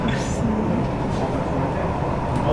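A Lausanne metro train rumbles steadily underground, a loud, continuous low roar of the car in motion with faint squeals near the start and end and little voice audible.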